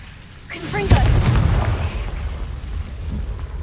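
A Confringo spell explodes in Hogwarts Legacy: a short rising whoosh, then a heavy booming blast that trails into a long rumbling roar.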